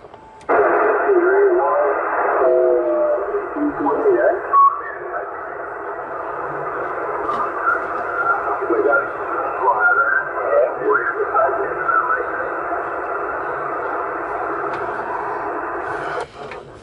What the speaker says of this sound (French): Oh, il y a beaucoup de bruit là sur la fréquence.